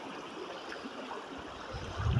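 A clear, shallow river streams steadily past outdoors, a soft continuous rushing and burbling that swells slightly near the end.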